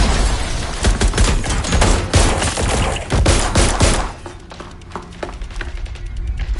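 Rapid video game gunfire erupts during a raid in Watch Dogs Legion, a dense fusillade of shots and thuds for about four seconds, then sparser, quieter scattered shots with no talk.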